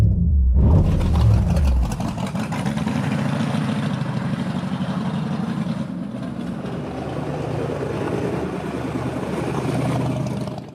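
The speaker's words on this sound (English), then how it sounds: "You should sit in the Corvette just to start the incredible engine. What a sound." A 1962 Corvette C1 convertible's engine idles close by with a steady, loud, deep rumble after a brief startup burst, holding an even throb with no talking.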